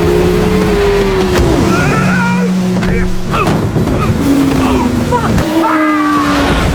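A speedboat races at full power toward a seaside restaurant, its engine roaring loud and close with rising and falling pitch over splashing water, while someone narrates over it.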